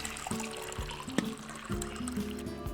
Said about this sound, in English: Soak garlic in water for 10 minutes.